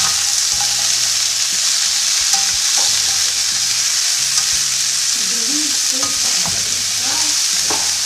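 A vegan stir-fry of onions, celery and carrots sizzles steadily in a pan, with intermittent scraping and stirring clatter throughout and no talking.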